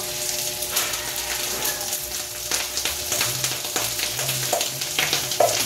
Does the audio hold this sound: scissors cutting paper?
no